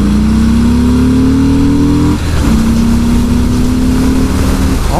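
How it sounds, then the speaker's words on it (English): A 2018 Harley-Davidson Fat Bob Softail motorcycle accelerates hard, its engine loud and close as it rises in pitch, dips on a gear change, then climbs again with no talk over it. "This bike just wants to go, man."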